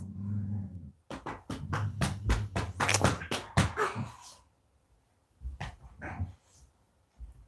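A dog gives a fast run of about a dozen sharp, close barks, then pauses before a few more scattered barks and a short growl, heard alone with no talk.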